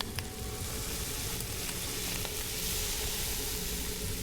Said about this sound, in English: I should cook my meat.